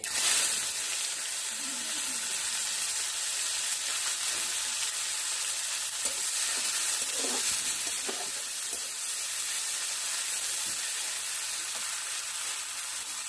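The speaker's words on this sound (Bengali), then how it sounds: "দিয়ে দিচ্ছি পেঁয়াজ কুচি," Chopped onion with whole cumin seeds frying in hot mustard oil in a wok, a steady broad sizzle running throughout with a few faint scraping stirs, close and fairly quiet.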